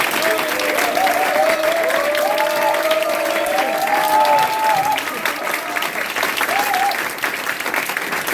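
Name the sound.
audience applause at a party ceremony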